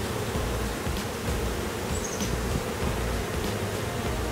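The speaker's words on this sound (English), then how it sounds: "Got some angry bees here." Dense, continuous buzzing of many agitated honey bees up close at a hive recovering from a bear attack, an agitated hum that fills the whole stretch without pause.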